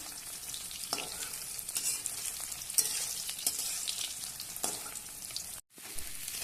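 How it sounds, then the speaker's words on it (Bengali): Boiled dal with a spice paste frying in a pan for a chana dal paneer dish, a continuous close sizzle with occasional stirring scrapes and a brief silent break near the end, no voices. "লাল লাল করে ভেজে নেওয়া হয়ে গেছে"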